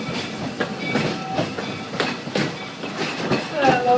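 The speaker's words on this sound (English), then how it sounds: "Thanks for traveling with us on the Walt Disney World Railroad." The Walt Disney World Railroad train rolls steadily through the Magic Kingdom on its Grand Circle Tour, heard from on board as a continuous rumble with rhythmic clickety-clack from the wheels and a faint squeal near the end.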